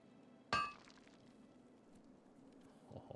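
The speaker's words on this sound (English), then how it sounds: "Wait for Jordan Stillwell to finish forging the Go weapon" A single sharp metallic clink of a hammer on an anvil as a blacksmith forges a weapon in World of Warcraft Classic, followed by faint low background ambience.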